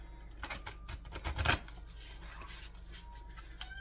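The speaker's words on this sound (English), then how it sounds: "I'm gonna shuffle one more time" Cards being shuffled in quick riffling bursts, soft and close, with a louder flurry midway.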